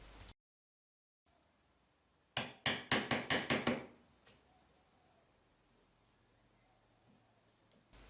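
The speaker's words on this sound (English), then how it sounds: "Place the chisel 1mm inside of the short end and then tap and cut the fiber." A chisel is tapped with a mallet to cut wood fibers at the end of a mortise in Japanese woodworking: seven quick, crisp knocks in a fast burst, close and clear, then quiet.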